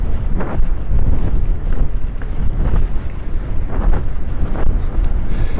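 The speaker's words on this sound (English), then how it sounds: "it is quite windy today" Strong wind on a seaside walkway in West Vancouver buffets the microphone in loud, continuous low rumbling gusts, with no talking.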